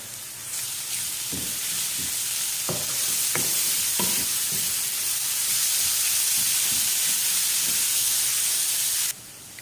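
Vegetables sizzle loudly in a hot pan, a constant frying hiss broken by several sharp scraping stirs early on, until the sizzle cuts off abruptly near the end.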